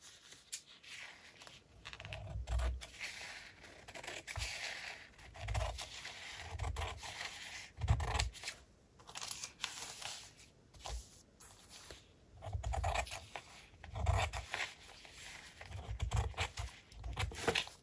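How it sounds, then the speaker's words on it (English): Scissors cutting a folded paper napkin to size, an irregular series of soft crisp snips and rustling paper scrapes, close and fairly quiet, with occasional light handling knocks. "You'll have to cut this napkin to size approximately."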